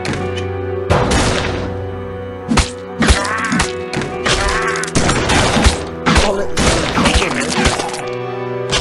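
A cowboy unit fires a gun in the Dead Ahead Zombie Warfare mobile game, loud punchy shots and thuds popping in irregular bursts over layered game music and effects.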